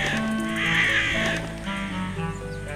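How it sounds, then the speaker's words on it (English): Crows cawing in the zoo video game Zoo 2 Animal Park, several loud harsh caws in quick succession close by, over soft game background sound. "Gotta scare away those pesky crows."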